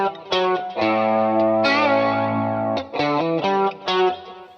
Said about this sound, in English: the first guitar line you hear after that intro is this